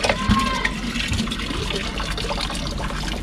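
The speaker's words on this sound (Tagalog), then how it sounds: "Ang lamig ng tubig ng poso" Cold water flows from a hand pump in a steady close splashing gush, with a few faint clanks and bumps near the start.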